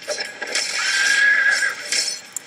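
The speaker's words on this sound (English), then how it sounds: "Oh god, I heard a horse." A horse neighs in the Brawlhalla fighting game, a loud drawn-out whinny of about a second rising and falling over game sound effects, with no talk.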